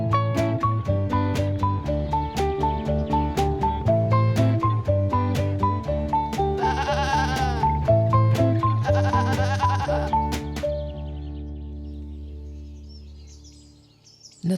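Goats at the Buttercups refuge in Kent, south of London, let out a couple of wavering, tremulous bleats in the middle of a passage of rhythmic music, which then fades out.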